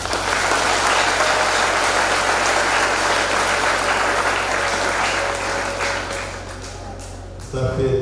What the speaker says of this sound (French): On attendait qu'on applaudisse.